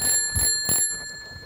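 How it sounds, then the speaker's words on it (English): A bell rings in two quick bright strikes, followed by a fading tail and quiet room noise. "It's the doorbell"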